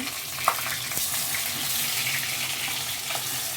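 Steady hiss and crackle of fish frying in hot oil, continuous and close, with a few faint utensil clinks.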